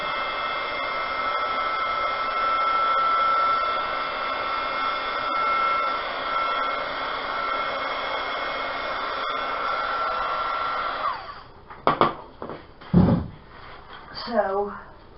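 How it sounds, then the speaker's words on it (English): A hair dryer blows steadily on resin in a mold to clear bubbles, a continuous airy whoosh for about eleven seconds that then cuts off, followed by a few short handling clatters and brief voice sounds. "you could use your dryer."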